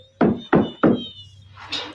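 Three firm knocks land on a door at an even pace, loud and close, followed by a softer rustling sound.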